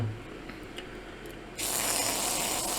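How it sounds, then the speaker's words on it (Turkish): Cleaning liquid sprays from a bottle: after a quiet stretch, a sudden bright hissing spray starts and continues steadily to the end, close and fairly loud, with no talk. "Şu an kullanmış olduğumuz sprey temizlik sıvısı"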